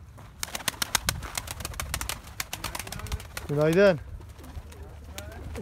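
Game pigeons coo in a loft, a short rolling coo standing out near the end amid clattering movement and someone talking throughout.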